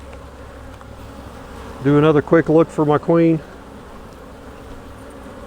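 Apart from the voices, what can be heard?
honeybees buzzing during hive split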